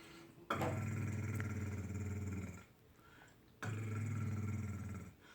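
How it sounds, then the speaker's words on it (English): A deep, growling rumble from an elephant at night, heard from a camping tent in Africa, in two long, loud, steady bursts separated by a short pause. "This is a stomach rumble of an elephant."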